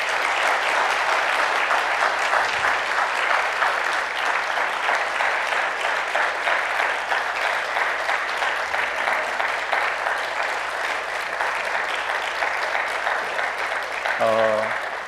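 A church congregation at a Sunday worship service claps warmly in a dense, sustained round of applause lasting the whole stretch, loud and even, then fading slightly near the end, where a short tonal sound enters.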